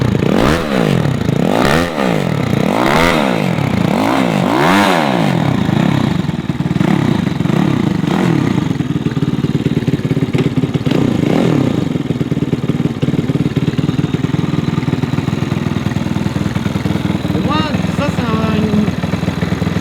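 A Honda Dax motorcycle fitted with a swapped 140cc engine and 28 carburettor revs in several sharp bursts, then settles into a loud, steady idle with a rattly clatter, close to the microphone while people speak nearby.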